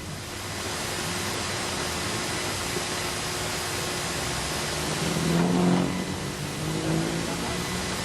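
Speedway race car from a National 4 final at Maryborough Speedway droning around the track on a lap of honour, engine steady under broadband crowd and track noise, swelling briefly as it passes.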